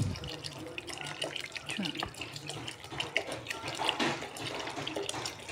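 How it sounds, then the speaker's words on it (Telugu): Cool water is poured onto freshly boiled street-style noodles in a pot, a continuous splashing, gurgling stream close by, with a voice talking faintly underneath. "ఇప్పుడు దీంట్లో కూల్ వాటర్ పోసేద్దాం"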